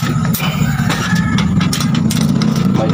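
A motorcycle engine idles close by in steady low rumble, continuous throughout with a few faint sharper transients on top, on a rainy day.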